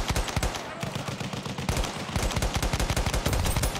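A scoped weapon in Battlefield 1 fires in a rapid, steady string of close, punchy shots lasting several seconds, with battlefield noise behind and a voice talking over it.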